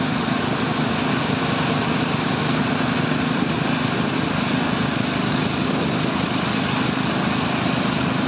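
Garden tractor engine straining at steady high revs during a stone boat pull at a county fair, a loud continuous buzzing drone held close throughout.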